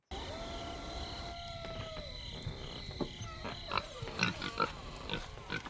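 Soft grunts from a pig come through faintly, several short snorts near the end over a steady background hum and insect-like buzz.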